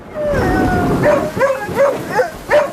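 Dog barking and howling from the film Marley & Me, a run of short yelps and wavering howls repeating about every half second, loud and close, with little other sound.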